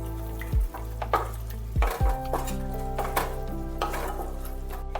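Spicy green chilli paste with a splash of water cooks in a pan for vegetable khichdi, giving a steady close sizzle with a few stirring scrapes and clinks of a spoon against the pan.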